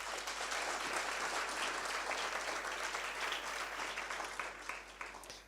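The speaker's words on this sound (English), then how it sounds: "I think you can actually give yourselves a good, solid round of applause for that." First-year students at an East London university orientation give a long, sustained round of applause, an even hall-filling roar of clapping that fades slightly toward the end.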